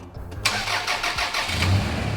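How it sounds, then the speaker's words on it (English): A small engine overfilled with oil cranks and catches after a brief pause, then settles into a loud, close, uneven rough-running idle. "We're gonna fire this thing up first and see if oil starts pushing out of this thing."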